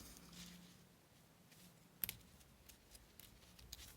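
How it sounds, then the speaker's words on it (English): Fabric scissors snip through a piece of lace in a single sharp cut, close and fairly quiet against a soft room background, with a few faint handling ticks afterward. "I want to just cut that bit off there with my fabric scissors."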